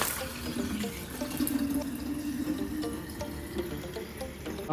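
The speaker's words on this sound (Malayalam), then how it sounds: "വെള്ളം നിറക്കാൻ പോകുന്നു." A tap runs into a bucket being filled with water for washing a car at home, a steady close gush with small splashing and dripping throughout, no voices.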